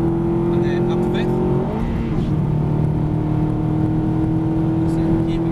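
An Aston Martin on the Silverstone circuit drives through its gears. Its loud, steady in-car engine drone drops and rises once as it shifts up to fifth, while an instructor speaks over the noise.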